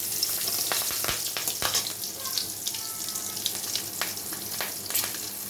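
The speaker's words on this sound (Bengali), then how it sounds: "কড়াইতে সরষের তেলটা গরম হয়ে গেছে। এখানে দিয়ে দিচ্ছি কালো জিরে, কাঁচা লঙ্কা," Black cumin seeds and green chillies crackle and sizzle in hot mustard oil in a wok, a steady close frying hiss with sharp pops and a faint clink.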